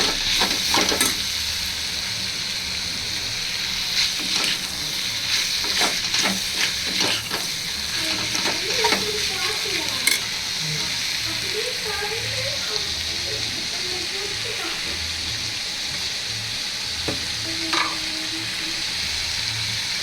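Large tomatoes and onions with salt sauté in a pan for chicken kulambu, a steady close frying hiss with intermittent stirring scrapes throughout.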